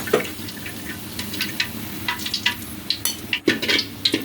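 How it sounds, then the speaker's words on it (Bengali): Onions frying in white oil in a pan, a steady crackle and sizzle with scattered stirring clinks and scrapes, close and fairly loud with no talking. "সাদা তেলে পেঁয়াজ দিয়ে দিলাম।"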